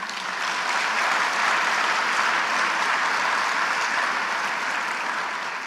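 A large audience bursts into loud, sustained applause after a presidential speech marking Independence Movement Day. The clapping forms a dense, steady roar for several seconds, with no voices over it.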